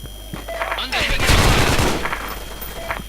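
Dense burst of automatic gunfire from the online shooter S.K.I.L.L.: Special Force 2, loudest in the middle of the clip and trailing off, with lighter shots and game effects around it.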